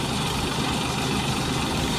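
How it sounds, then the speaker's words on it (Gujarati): An old-model mini tractor's engine runs at a steady idle on a farm, a loud, continuous low rumble that holds unchanged from start to finish with no voices over it. "જૂનામાં જૂનું મોડલ મિની ટ્રેક્ટર નું"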